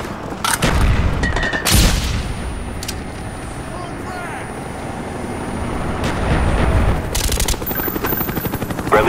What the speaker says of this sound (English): Enemy down. Friendly Cobra inbound.